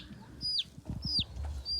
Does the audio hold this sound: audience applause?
no